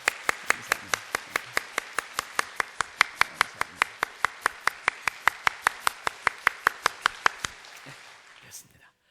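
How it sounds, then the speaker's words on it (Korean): A church congregation welcomes visiting guests with steady rhythmic clapping, sharp evenly spaced claps in unison that run for several seconds before breaking off and trailing into a few scattered ones. "우리 박수로 뜨겁게 환영합니다"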